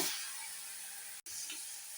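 Sesame oil sizzling in a pan with sautéed fruit, a steady close, quiet hiss with one very brief dropout midway.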